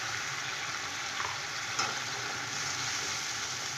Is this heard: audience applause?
no